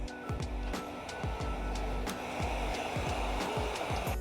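A heat gun blows a steady close whooshing hiss as it warms tint film on the taillight of a 2019-2025 Alfa Romeo Stelvio, with repeated low thumps and handling knocks over the airflow.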